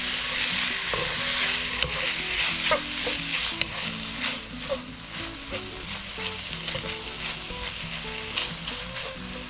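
American shad frying with garlic in a pan: a steady, close sizzle with crackling pops and occasional stirring clatter, no voices.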